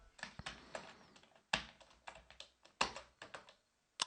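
Code is typed on a computer keyboard, a close, quiet run of clicky keystrokes in uneven bursts with a few louder presses and brief gaps, and no voice.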